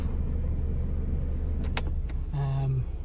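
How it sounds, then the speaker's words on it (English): A Toyota Yaris Verso 1.3 idles with the air conditioning switched on, holding a steady, even low hum up close, broken by a few brief clicks and a short mechanical whir near the end. "So car is idling really good."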